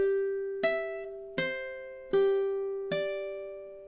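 A ukulele plays one measure of a Hawaiian song, four evenly spaced plucked notes ringing clearly and decaying, close and quiet with no voice.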